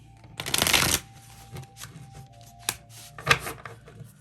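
Tarot cards are shuffled in a quick riffling burst, fading, then rustling again in a short second flurry, close and clear with no talking.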